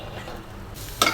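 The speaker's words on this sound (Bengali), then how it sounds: "সরিষার তেল দিয়ে পেঁয়াজ রসুন কাঁচামরিচ দিয়ে চিংড়ি মাছের মাথাটা ভেজে নিচ্ছি" Prawn heads frying in mustard oil with onion, garlic and green chilli give a short, steady sizzle in a pan, then a louder stirring burst right at the end.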